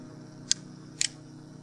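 Two sharp computer mouse clicks, the second a quick double-tick, stand out over a low steady electrical hum from a Windows 10 PC.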